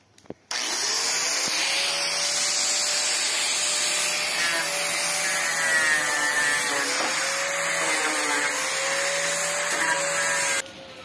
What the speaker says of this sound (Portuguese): Agora eu vou passar na lixa.